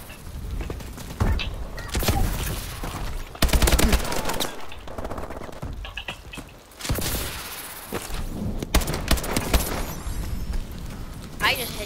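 Rapid video game gunfire, with repeated machine-gun bursts and heavy booming shots throughout. It is loud and close, comes in uneven volleys, and a voice talks over parts of it.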